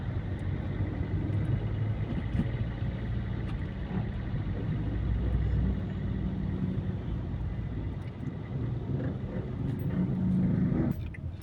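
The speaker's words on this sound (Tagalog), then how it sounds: "Siksikan na po yung mga sasakyan po dito mga Paps." Heavy, congested road traffic near Quezon Avenue and Visayas Avenue in the Philippines, a dense rumble of car and motor engines with occasional revving swells, continuous and fairly loud from inside or beside a vehicle.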